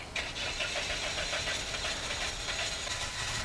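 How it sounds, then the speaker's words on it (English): Car engine with a blown head gasket treated with Bar's Leak starting from cold, a cranking churn that catches into a steady rough running rumble, heard close and alone. "we're going to start the engine up."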